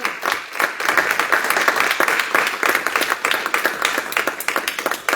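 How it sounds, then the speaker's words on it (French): A church congregation at a French-language teaching service applauds steadily throughout, a dense, continuous clapping that fills the room without pause. "tous ensemble nous disons Amen, et nous acclamons le Seigneur pour sa bonne parole"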